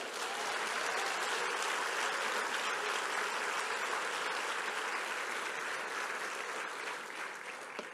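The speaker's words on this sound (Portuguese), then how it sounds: "Você pode aplaudir o Senhor?" A church congregation at a worship service applauds steadily for the full stretch, a dense, even wash of clapping that stays loud throughout with no voices breaking through.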